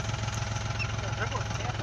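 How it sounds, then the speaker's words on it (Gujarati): A diesel tractor loader engine chugs steadily nearby while loading farmyard manure, with a low, regular thumping rhythm, while faint voices talk in the background. "હવે તો ટ્રેક્ટર વેતું થયું"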